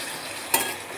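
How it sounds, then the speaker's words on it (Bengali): Raw prawns stirred through spiced masala in a wok, a soft steady sizzle broken by a single short scrape of the spoon midway. "নাড়াচাড়া করে নেব।"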